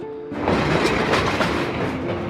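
Heavy train cars, each around 75 tons, rumble and clatter along the rails in a steady, loud rolling roar that starts abruptly and continues without talk.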